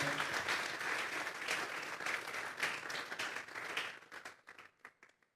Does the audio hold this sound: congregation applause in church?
yes